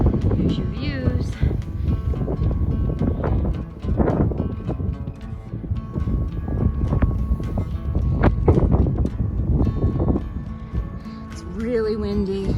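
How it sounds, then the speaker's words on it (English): Steady wind buffeting the microphone outdoors, a rough continuous rumble with gusts swelling and easing, and a voice heard only faintly. "It's really windy. It's been windy all morning."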